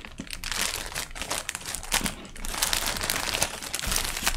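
Plastic wrapping from a 2022 Danish military ration pack crinkles and crunches steadily close by, with dense, continuous rustling and no talk.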